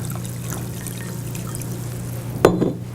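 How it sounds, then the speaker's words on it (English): Water pours into a bowl in a kitchen, a short splashing gush near the end after a steady low hum of background noise. "we have a bowl. We put water in there."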